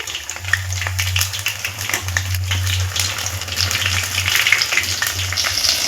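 Flour lace frying in hot oil, a steady close crackling sizzle with bright spitting pops throughout and a low steady hum underneath, as the pieces are flipped over in the pan.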